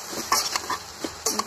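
A spoon scrapes and clatters in a pan while vegetables are stirred and mixed with dried ribbonfish, sweet potato and stem pieces; several short, close scraping strokes come in an uneven rhythm.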